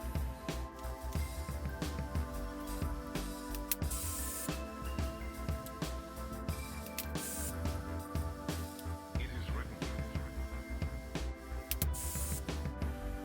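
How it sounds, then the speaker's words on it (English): Repeated bursts of aerosol spray hiss up close, short blasts broken by brief pauses over a steady hum of background music. "we're just going to spray it with some hairspray"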